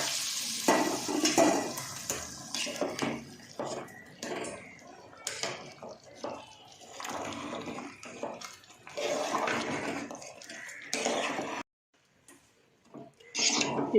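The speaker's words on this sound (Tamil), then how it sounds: "இப்போ தாளிப்பை சாப்பாட்டில் ஊற்றணும்." A hot tempering of popped mustard seeds and curry leaves poured over Tirunelveli-style kootanchoru rice, giving a burst of sizzling and bubbling, then stirring noises with brief pauses and a short near-silent gap.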